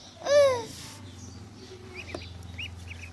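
Ducks kept by a first-time bird raiser call out in a single loud, nasal cry near the start, then quieter scattered chirps follow over a low steady background hum.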